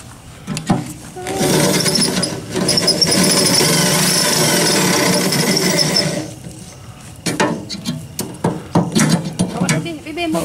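Bolts are taken out of an old wheelbarrow being rebuilt, with a sustained burst of ratcheting and metallic tool work in the middle, then scattered clanks and knocks, while people talk nearby.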